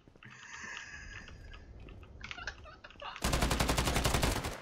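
Rapid automatic gunfire from a Counter-Strike: Global Offensive match bursts in loudly near the end, a dense rattling volley that follows quieter scattered game noises and clicks.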